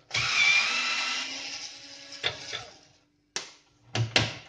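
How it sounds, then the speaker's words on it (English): Screws being pulled out of the metal chassis of an uninterruptible power supply with a power screwdriver: a long whirring run, then several short bursts and clicks, close and alone. "So I've got to pull a few screws out, get this chassis to pieces."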